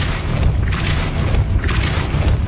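The Depulso force spell cast in Hogwarts Legacy: a loud, dull whooshing boom over a steady rumbling game background, with two brief brighter bursts.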